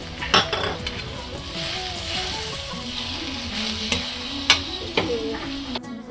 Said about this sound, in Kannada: ಹಾಕಿ ಹುರ್ಕೊಳ್ತಾ ಇದ್ದೀನಿ